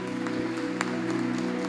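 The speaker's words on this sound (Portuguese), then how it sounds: "Você pode aplaudir o nome do Senhor Jesus?" A church congregation claps together in a steady, dense patter, heard under a sustained organ or keyboard chord, with no voices rising above the applause.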